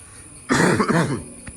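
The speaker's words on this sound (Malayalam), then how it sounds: "സോറി നല്ലൊരു ചുമ സീനാണ് ഇവിടെ" A person coughs once, a single harsh, close burst lasting about half a second, indoors in a quiet room during a road trip.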